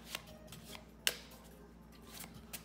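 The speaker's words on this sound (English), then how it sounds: "I'm doing the shuffle, but always holding this last card" A deck of playing cards being shuffled by hand for a card trick, a series of soft riffling flicks and a few sharper snaps spaced irregularly, close and quiet.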